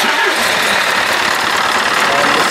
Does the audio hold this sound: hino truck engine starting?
yes